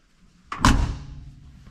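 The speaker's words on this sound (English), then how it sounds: "You can hear how nice the door's shut." A 1970 Ford F100 truck door with new seals shuts with one solid, close thud and a short, muffled rattle that fades quickly.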